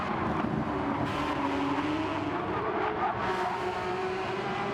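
Porsche GT3 Cup race cars roar around Interlagos in a racing video game, a dense steady engine drone with shifting pitch as cars pass and rev, at moderate level with no talking.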